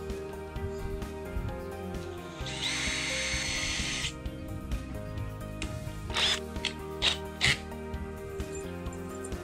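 A power driver sets small screws that press flashing against a tiny house wall: one longer whirring burst, then several short quick bursts, close and moderately loud over a quiet background.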